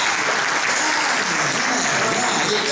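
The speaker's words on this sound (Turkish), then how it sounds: "Alkış, alkış, alkış." Steady, dense applause from a conference audience, continuous clapping at even loudness throughout, with no pauses.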